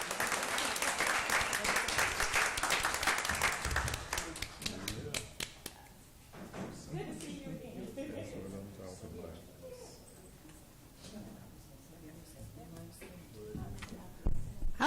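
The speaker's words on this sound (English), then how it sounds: "One more round of applause for" Audience at a Jackson Public School District board meeting claps, a loud burst of dense applause for several seconds that thins into scattered claps, followed by a person speaking.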